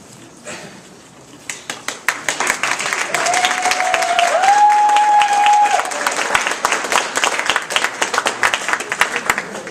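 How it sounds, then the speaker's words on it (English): Applause at a Toastmasters district spring conference swells from scattered claps into a loud, sustained ovation from a hall full of people, with a brief whistle in the middle, then tapers into sparse claps. "That applause is not for me."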